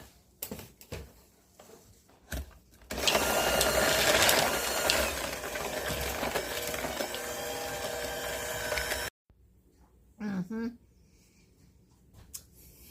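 Cookie dough for vanilla chocolate chip cookies being mixed, most likely with an electric mixer, giving a steady loud whirring that runs for about six seconds, with brief talk and kitchen knocks before and after.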